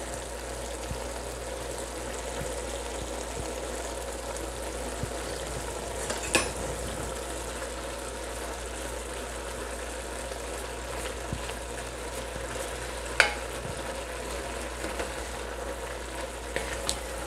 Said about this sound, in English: Now I am mixing green papaya leaf with lamb